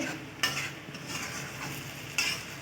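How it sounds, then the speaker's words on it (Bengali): Lobster head mixture stirred and frying in a pan, with steady close sizzling and a spoon scraping through it, two sharper scrapes standing out, and no talking. "যেটা সমানে নাড়তে হবে একটুখানি রেখে রেখে আর কি নেড়ে চেড়ে নেড়ে চেড়ে এটাকে শুকিয়ে নিতে হবে"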